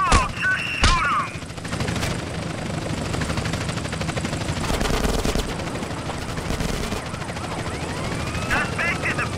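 Gunfire in the video game GTA San Andreas: loud, continuous automatic fire and shots mixed with a helicopter's steady whir. The noise is dense and layered, with shouting voices over it.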